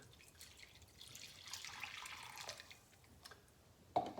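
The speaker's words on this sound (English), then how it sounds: "And pour the milk in." A gentle stream of milk pours steadily for a couple of seconds, soft and close, ending with a small clink.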